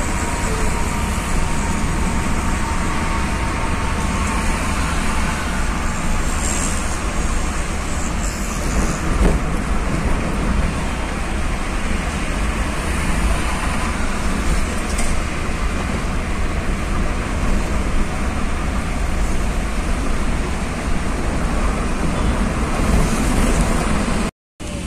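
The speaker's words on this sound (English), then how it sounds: "Cruising through rush hour traffic in Bombay" Dense rush-hour road traffic on a Bombay street roars continuously around a moving vehicle, a loud steady wash of engines and tyre noise with no pauses and no voices.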